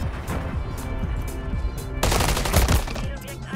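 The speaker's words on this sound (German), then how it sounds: "Ich werde hier drüben beschossen." Automatic gunfire crackles through a Call of Duty Modern Warfare match, steady background shooting that swells into a louder, closer burst partway through.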